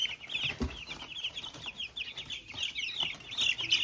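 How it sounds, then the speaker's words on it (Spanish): A flock of ten chickens clucks steadily as they are put into their coop at night on a small poultry farm, the busy overlapping calls fairly quiet against light handling noise. "Los 10 pollos lo vamos a meter."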